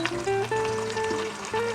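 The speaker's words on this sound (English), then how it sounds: "As you can see, it's already sizzling up." Steady sizzling and hissing from bone-in meat for osso buco in a hot pan with a little added water, with a faint tonal whine running through it, close and fairly loud throughout.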